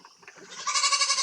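A young kacang goat kid bleats once, close and clear, in a rising, wavering cry that holds steady for a moment.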